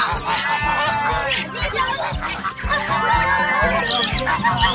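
Several chickens cluck and honk close by in an excited, overlapping chorus at feeding time, with low rhythmic thumps underneath.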